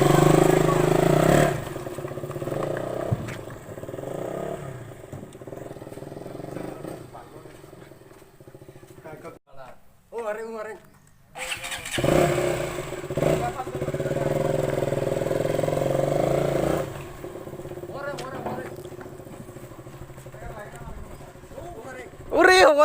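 A motorcycle engine revs and runs during a short test ride, rising and falling at moderate volume. Voices talk over much of it.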